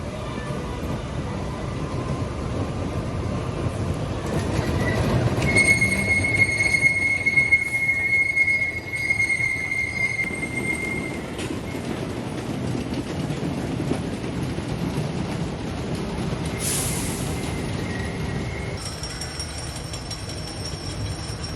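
A roller coaster train at Kings Dominion rumbles steadily along its track with a continuous roar and high metallic squeals, heard close by throughout.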